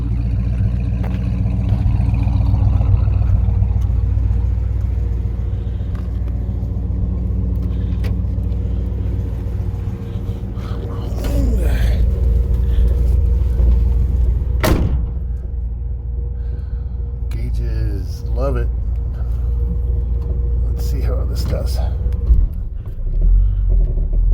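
A Ford Edsel on a test drive, its engine droning loud and close from inside the car with a steady low rumble, swells of acceleration, and a few knocks and rattles along the way.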